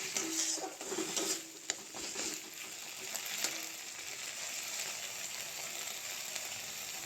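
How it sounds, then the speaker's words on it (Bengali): Green banana peel paste sizzles and fries in hot mustard oil in a pan, with steady spattering and occasional scraping stir strokes, louder at first and then settling into a constant sizzle, no voices. "তেলটা গরম হলেই আমি এই পেস্টটি দিয়ে দিলাম। দিয়ে ভালো করে নাড়াতে হবে।"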